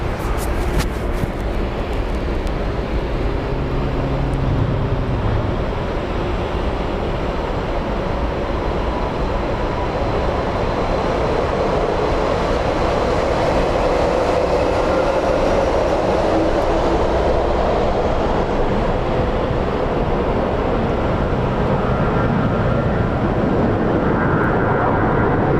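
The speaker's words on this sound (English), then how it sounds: "we're going to have the Delta Sky Team livery departing" A Delta airliner in SkyTeam livery departs Phoenix Sky Harbor, its steady, loud broadband engine roar filling the whole stretch without a break.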